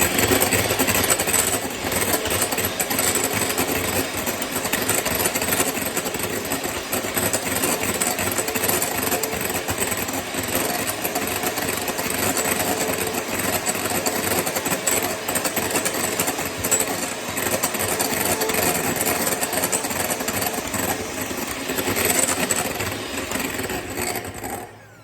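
Electric beaters whisk eggs into a foam for carrot cake, giving a continuous, close, buzzing motorised whir that holds steady throughout without any speech.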